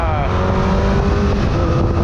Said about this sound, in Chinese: 刹车啊